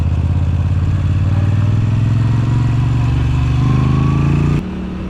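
Moto Guzzi motorcycle ridden along a bumpy country road on an autumn ride, its engine droning steadily and loud throughout with wind rush, then the note dropping abruptly near the end as the throttle eases.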